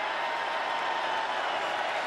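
A steady, dense roar from a stadium crowd rises during a third-down play at a Lions vs. Jaguars NFL game, a continuous wash of noise throughout with no clear breaks.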